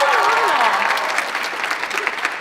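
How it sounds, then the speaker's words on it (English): A school choir audience applauds the student accompanist from El Vito, a loud, dense burst of clapping that thins slightly toward the end, with a faint gliding voice at the start. "Can we give her a huge round of applause?"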